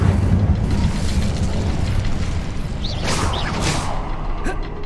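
An Incendio fire spell cast in the Hogwarts Legacy video game gives a loud, sustained roaring whoosh of flame over a low rumble, with brief crackling flares partway through.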